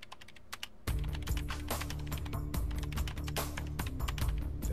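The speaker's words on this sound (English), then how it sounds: "Dasuke's fingers flew over the keyboard" Rapid typing on a computer keyboard in the video game 428 Shibuya Scramble, with dense, quick clicks that start after a brief quieter lead-in and continue close and steady over a low background tone.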